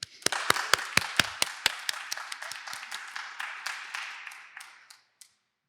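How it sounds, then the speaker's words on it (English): An evening audience at an author event in an archive claps together, a brisk burst of applause that stays lively for a few seconds, then thins to a few last claps. "let's give a big round of applause to Erin for all their hard work."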